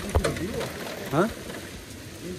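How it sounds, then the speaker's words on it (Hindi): Heavy rain falls in the Uttarakhand mountains as a steady hiss, while a voice speaks briefly over it. "गाइस बहुत ही तेज बारिश हो रही है, देखो अचानक से बारिश वाला मौसम बन गया पूरा।"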